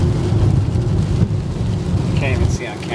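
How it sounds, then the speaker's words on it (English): Heavy rain and gusting wind roar steadily around a car driving west toward San Diego in a bad storm, a dense constant wash with low rumble and brief higher whooshes near the end. "It's windy. It's raining super hard."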